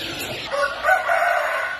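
A rooster crows at a chicken farm, one drawn-out call ringing fairly close over a steady background hum.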